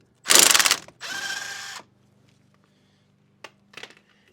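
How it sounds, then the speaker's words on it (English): A ratchet loosens a car sway bar link during a wheel bearing and hub job, with two close clicking bursts followed by a pause and a couple of brief faint clicks. "I'm going to go ahead and loosen up my sway bar link."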